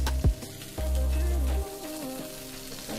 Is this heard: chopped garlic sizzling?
yes